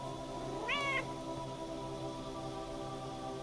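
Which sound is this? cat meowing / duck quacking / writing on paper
cat meowing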